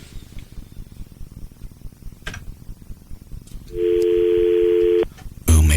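Telephone dialing tones on a radio talk show, with busy chatter and background voices before a steady, loud dial tone rises, then a brief sharp burst of sound at the end.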